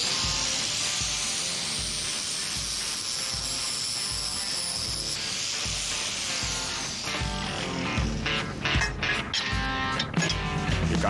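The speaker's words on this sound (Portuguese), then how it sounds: "é melhor lixar o eixo primeiro" The front axle of a 4x4 scale model is sanded by hand, with close, rhythmic rasping strokes repeating steadily and growing a little louder and busier toward the end.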